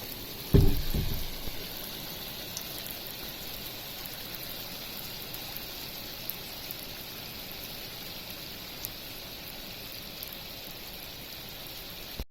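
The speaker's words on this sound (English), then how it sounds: "Right, it's starting to rain," Rain falls steadily outdoors beside a roadside, a soft constant patter with a brief louder knock near the start.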